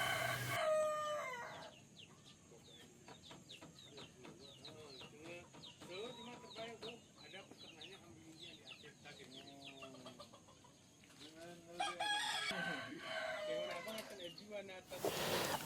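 An ayam ketawa, the Indonesian laughing chicken, crows in long rapid chattering bursts at the start and again near the end, with softer calls between, fairly close.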